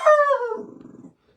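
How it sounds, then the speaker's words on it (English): A puppy gives a single short howl, a falling wavering cry of about one second that trails into a rough growly tail, close and alone without talk. "Oop, I hear my puppy."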